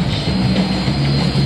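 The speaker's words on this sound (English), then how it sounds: "let us just enjoy the great, great feature, the Jet Mini from Andy Plesko." A Jet Mini small jet aircraft roars steadily at an airshow stunt fest, a loud continuous engine whine and rumble passing close.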